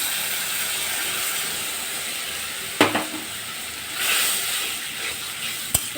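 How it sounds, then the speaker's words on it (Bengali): Fried potatoes in a pan sizzle steadily after turmeric, chili powder and salt are added, a close continuous frying hiss with a couple of sharp clinks and a brief stirring swell, no talking. "আলুটা সুন্দর করে ভেজে নিয়েছি এখন হলুদ মরিচ লবণ দিয়ে দিলাম"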